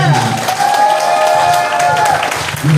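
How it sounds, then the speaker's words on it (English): A crowd at a pop culture convention applauds and cheers steadily for wrestling legends, a dense wash of clapping with voices mixed in throughout. "give a round of applause for these incredible legends"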